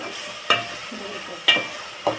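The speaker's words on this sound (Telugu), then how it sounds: "చూడండి ఫ్రెండ్స్, ఇలా మిక్స్ చేసుకోవాలి. బాగా వేగాలి." Food fries in a pan under a low steady sizzle while a utensil scrapes and stirs it in three distinct strokes.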